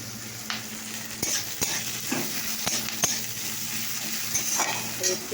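Chopped vegetables, ridge gourd and potato, fry in a wok with a constant sizzle, broken by sharp, repeated clinks of a metal spatula scraping and stirring.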